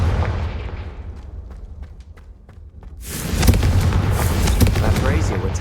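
A Confringo fire spell blasts in a video game, a sudden loud burst that sets off a sustained roaring, crackling rumble lasting several seconds, with softer thuds and game ambience before it.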